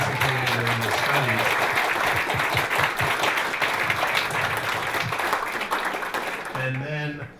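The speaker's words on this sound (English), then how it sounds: "So I'd like everybody to give a round of applause to all the patients that have participated in the study." An audience applauds patients who took part in a study at a celebration event, a dense steady round of clapping close by that runs for several seconds before fading, with a voice briefly audible near the end.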